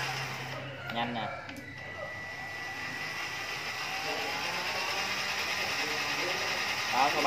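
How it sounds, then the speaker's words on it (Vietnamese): Homemade mini jeep with an electric motor running at its fast speed setting, a steady high whine held throughout under nearby talking and background noise. "nghe tiếng động cơ nha mọi người"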